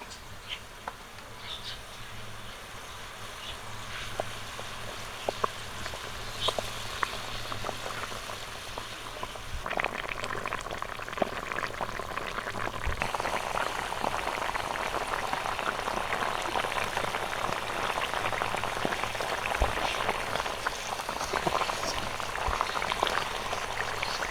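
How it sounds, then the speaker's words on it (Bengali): A pot of pangas fish curry broth simmers steadily, a continuous bubbling hiss that thickens and grows louder in its second half, with no voices. "ঝোলটা দেওয়ার পর 5 মিনিট ফুটিয়ে নিয়েছি"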